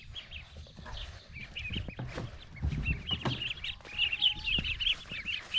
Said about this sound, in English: And here's a chicken. Here's our chickens.